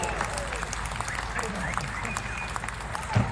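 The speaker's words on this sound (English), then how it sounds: "Clap your hands and congratulations" Crowd applause at a motor racing circuit for the winner of a Lotus Cup Europe race at Zolder, steady clapping from a sizable crowd with a public-address voice speaking over it.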